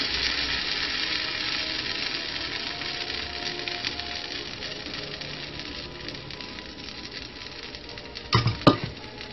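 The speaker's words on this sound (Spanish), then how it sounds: "lo que vamos a estar haciendo es estarla mezclando constantemente, revolviendo para que no se nos pegue" A thick chickpea cheese mixture cooking in a Teflon pan, giving off a steady soft sizzle and scraping patter as it is stirred continuously, with a couple of sharper knocks near the end.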